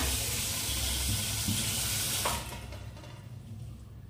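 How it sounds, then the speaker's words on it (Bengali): Running water pours steadily into a container in a home kitchen, a loud, dense rush that drops off abruptly after about two seconds to a softer trickle, with no talking. "জল দিয়ে এখন একটু ভিজিয়ে রাখি"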